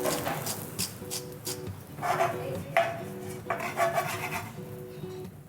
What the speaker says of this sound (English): Now I'm adding the pine nuts.